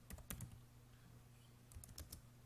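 Soft clicking of keys on a computer keyboard while writing in Microsoft Word 2013, quiet and close, in a few quick bursts separated by pauses, over a low steady hum.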